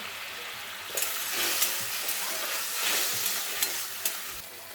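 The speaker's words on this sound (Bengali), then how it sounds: "এখন অল্প পরিমাণে লবণ দিয়ে মশলাটাকে কষিয়ে নেব।" Spice paste with tomato and salt frying in a pan for a vegetarian potato dum, a steady close sizzle with scraping stirs and a few sharp clicks of a spoon against the pan.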